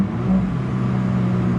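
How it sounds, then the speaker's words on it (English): Engine of an Alfa Romeo 4C heard from inside the car, a loud, steady low drone from the mid-mounted engine under acceleration. "So the upshifts, it sounds really good from an upshift perspective."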